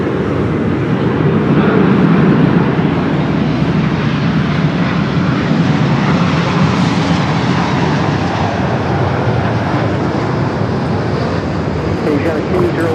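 An American Airlines Boeing Dreamliner arrives at LAX, its engines a loud, broad continuous roar that swells and holds throughout, with a voice talking over it.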